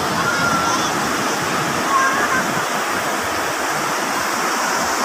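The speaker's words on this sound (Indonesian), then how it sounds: "Ombaknya besar." Steady, heavy roar of large ocean surf crashing without pause at Batu Bintang beach, Pelabuhan Ratu, Sukabumi, loud and close, with a voice speaking briefly over it.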